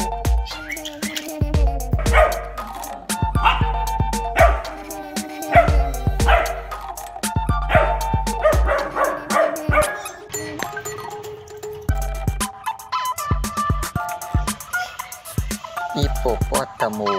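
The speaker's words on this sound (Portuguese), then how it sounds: "Cachorro." A dog barks repeatedly in short sharp bursts, nearby, over a backdrop of light music.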